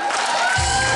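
Audience at the Bălți children's talent contest Бельцкая звездочка 2011 applauding during a prize-giving, dense, loud and close, filling a brief moment.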